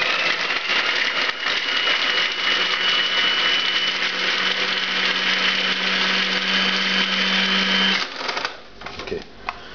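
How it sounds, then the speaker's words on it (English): A food processor grinds a large amount of garlic cloves with a steady, loud motor whir for about eight seconds, then stops abruptly, and a few quieter clunks follow. "I'm going to start it off just by grinding it in the food processor a little bit"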